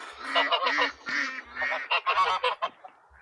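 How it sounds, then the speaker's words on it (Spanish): Geese honk repeatedly at an animal refuge, a run of loud nasal calls in quick bursts, close by, with some low background noise and faint talk. "Estos son ocas, ¿no?"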